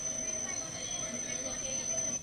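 Steady rumbling subway train noise with a high, sustained metallic wheel squeal running throughout, constant and close.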